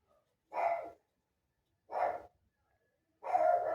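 A female dog that dislikes strangers barks at people passing in front, three separate gruff barks spaced about a second and a half apart, moderately close, with no talk over them.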